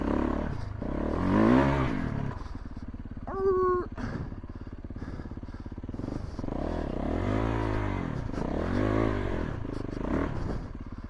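A Yamaha YZ450F motorcycle ridden in the rain, its engine droning and revving up and down in repeated swells, with a brief pitched squeal partway through.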